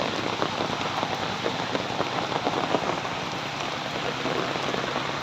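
Steady rain pours down outdoors on a rainy day by a fishing spot, a dense, even hiss of drops striking surfaces, continuous and fairly loud with no voices.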